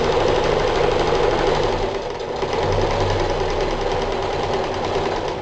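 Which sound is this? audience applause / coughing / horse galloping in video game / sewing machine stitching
sewing machine stitching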